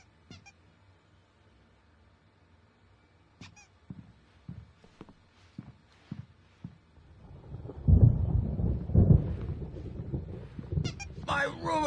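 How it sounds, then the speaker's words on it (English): Thunder from an approaching storm in Alan Wake, set in a quiet room. A few sharp clicks come first, then a deep rolling rumble swells in the second half and lingers. "There's a storm coming. Oh, what a storm."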